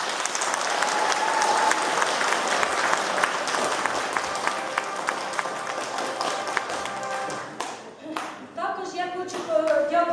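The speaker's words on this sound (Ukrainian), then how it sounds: "Діти, я вважаю, що наші учасники екологічної бригади заслуговують наших гучних аплодисментів." Loud, sustained applause from an audience of children and adults greets a young ecology team, a broad even wash of clapping that breaks into scattered claps and voices near the end.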